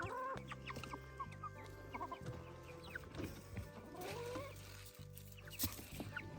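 Brown-egg laying hens peck at spilled feed on a homestead, clucking softly and repeatedly close by in a quiet outdoor setting.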